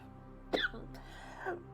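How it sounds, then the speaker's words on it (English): A single short, fairly quiet cough from a person recovering from mold poisoning, one abrupt burst followed by a softer throat sound a moment later, in an otherwise quiet room. "Wow, I have a little cough."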